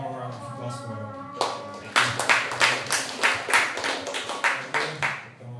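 A small audience claps after a lecture on data assimilation, a modest round of applause with distinct, evenly spaced claps rising after a moment of talk.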